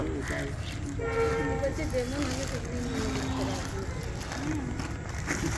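A train rolls past with a steady rumbling roar and a wavering horn tone sounding through the middle, fairly loud and continuous, with voices faintly in the background.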